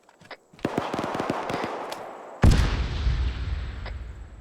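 Gunfire in ArmA 3 during a military co-op operation: a string of sharp distant rifle cracks, then a loud nearby blast-like shot with a long rolling echo and scattered pops trailing after.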